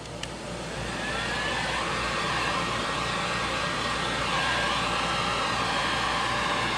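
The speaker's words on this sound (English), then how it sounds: "Get my heat gun." A heat gun blows a steady, loud roar of hot air to dry airbrushed paint on a broken-window design, running continuously without any voices.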